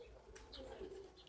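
Pigeons coo softly in a short, low, murmuring call, faint and close with light background noise and a brief chirp.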